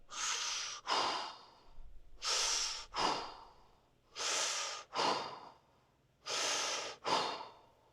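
Four cycles of close, steady breathing during a lower-body fascia stretch, with the torso upright and the head turned back. Each long, airy inhale runs straight into a shorter, sharper exhale, in an even rhythm with quiet pauses between.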